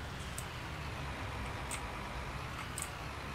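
A steady, low tractor engine rumble in Farming Simulator 19 drones on without a break, with faint ticking now and then over the top.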